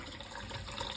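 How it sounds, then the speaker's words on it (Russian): A thin stream of cold tap water runs steadily over boiled beetroot in a sink, a soft continuous hiss and trickle heard close by with no voices. "Ставлю на самый тонкий струй воды."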